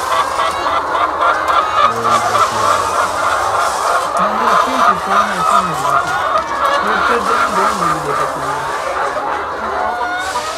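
Hens clucking and chattering en masse on a 6,000-hen egg farm in Pakistan, a dense continuous flock din with individual clucks rising above it throughout.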